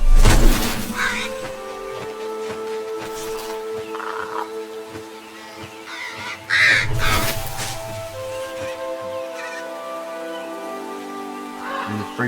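Crows caw a few times in the video game Moss VR, loud near calls over a soft ambient music bed with scattered game sounds.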